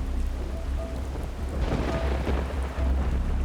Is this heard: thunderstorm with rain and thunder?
yes